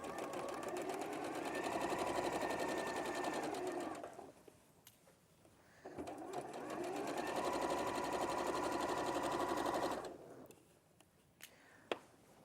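Sewing machine running normal-length stitches along a 1.5 seam allowance on culottes fabric, two long steady bursts of fast rhythmic whirring separated by short quiet pauses, close and alone.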